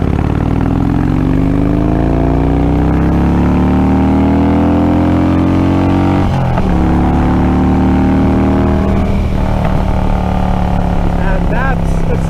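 A Harley-Davidson motorcycle engine runs loud and close with a deep rumble, and its pitch climbs smoothly through several revs that rise and fall over the whole stretch.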